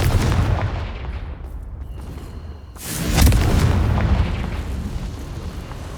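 A Confringo fire blast spell explodes in the video game Hogwarts Legacy with a heavy, booming burst that rumbles and decays, followed by a second deep blast, loud and close with no talk.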